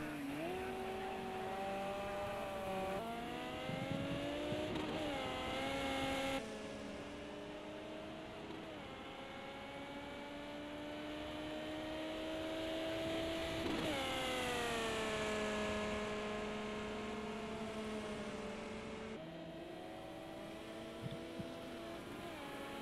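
Ferrari F355 race car engine in Project Cars 2, a high, smooth wail climbing through the revs and dropping at each gear change, steady and fairly close throughout a lap.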